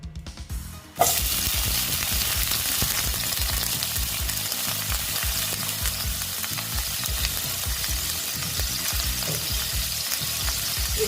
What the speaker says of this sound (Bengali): এগুলোকে আমি ভালো মতন ভেজে নিচ্ছি